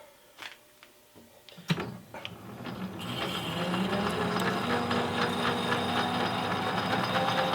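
A 1/8 inch high-speed steel parting blade cuts off a 3-inch 304 stainless steel bar on a lathe near 270 RPM, a steady grinding, chattering metal-cutting noise that swells after a few clicks and knocks and then holds constant.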